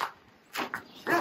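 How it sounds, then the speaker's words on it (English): A Maremma livestock guard dog on an alpaca farm gives two or three short, sharp barks at moderate distance, separated by brief pauses, with no talking. "our other guard dogs are called Maremmas, or Italian livestock guard dogs"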